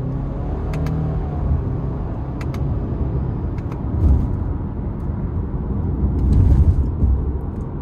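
A 2020 Subaru Forester Sport engine revs in SI drive mode while driving. Engine rumble and road noise are heard from inside the car, with the revs swelling and easing a few times.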